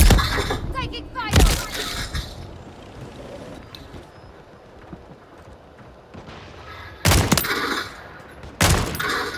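Call of Duty gameplay with loud bursts of close gunfire and shattering cracks. Quieter rumbling stretches fall between the bursts, and voices speak over the action.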